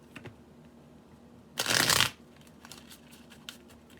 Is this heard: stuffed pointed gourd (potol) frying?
no